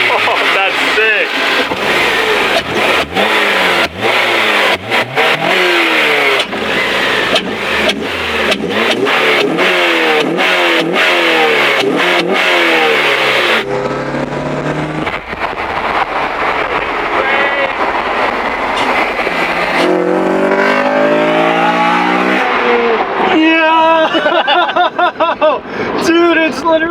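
8th gen Honda Civic Si engine revving hard through VTEC, repeated rising and falling revs close by, loud and rough, with excited voices talking and reacting over it.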